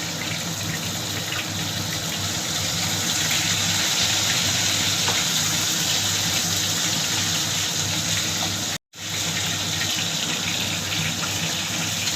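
Pomfret fish frying in a pan, one side crisping, a dense continuous sizzle holding steady throughout with a momentary break near the end.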